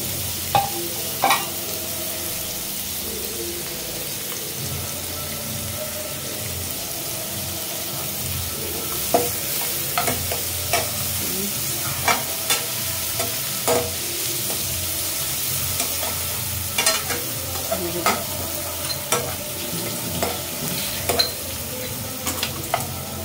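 Chopped onions sizzle steadily in a pan for Malvani kaleji masala. Repeated scraping clicks of a stirring spoon cut through the continuous frying hiss.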